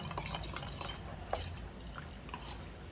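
Milk kozhukattai cooking in a pot is stirred with a utensil, giving faint, soft scraping and light clinks against the vessel over a low bubbling background, quiet and continuous.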